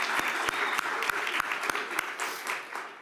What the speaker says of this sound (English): So I'd like to give her and her team a round of applause.